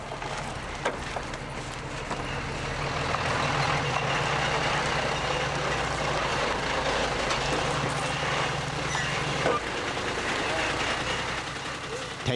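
A large truck arrives at a big chicken farm in Anseong, carrying forty thousand chicks. Its engine rumbles continuously at moderate distance, with faint reversing beeps and a few sharp knocks near the end.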